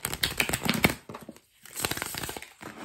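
Tarot cards riffle and slap together in quick, close bursts, followed by a brief pause and then a second, softer round of shuffling.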